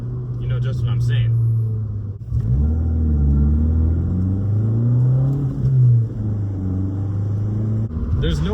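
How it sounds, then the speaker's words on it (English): A 2013 Fiat 500 Abarth's four-cylinder exhaust rumbles and revs up close, the engine note rising and falling through a blip of throttle, with someone talking over it. "the exhaust note behind me is otherworldly for a 4-cylinder"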